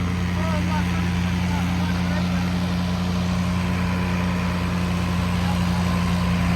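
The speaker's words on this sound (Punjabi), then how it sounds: "ਨਿੱਕੇ ਦਾ ਟਰੈਕਟਰ ਤਾਂ ਤੁਰਦਾ ਹੀ ਨਹੀਂ ਪਿਆ ਯਾਰ" A low, steady tractor engine idles continuously with a deep rumble, while voices talk loosely in the background.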